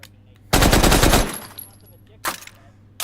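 A World War I era submachine gun fires in a video game: one loud sustained automatic burst, then two brief short bursts after a pause.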